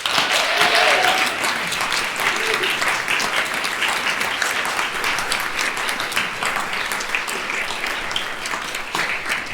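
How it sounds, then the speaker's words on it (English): A room claps steadily for Dr. Jonathan Choi at a university Faculty of Medicine and Dentistry community celebration, the applause even and sustained throughout with no talking on top. "Dr. Jonathan Choi, who deserves a special round of applause"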